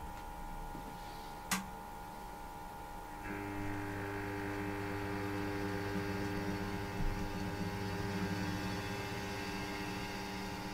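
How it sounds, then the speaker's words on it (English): A precision grinding machine spindle spins up after balancing, a faint electrical hum that steps up at about three seconds into a steadier, layered tonal drone, with a single sharp tick early on. "press Next, start the spindle"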